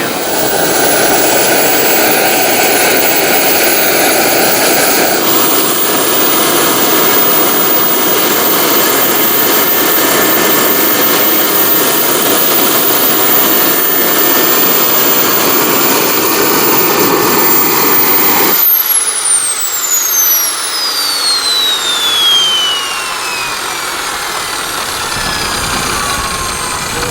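Turbine engine of an Align T-Rex 700 RC helicopter whines loudly and steadily at close range, then shifts into a cooling-down run where the high whine falls gradually in pitch while air keeps rushing through.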